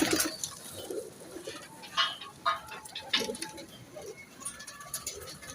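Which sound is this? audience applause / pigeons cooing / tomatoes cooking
pigeons cooing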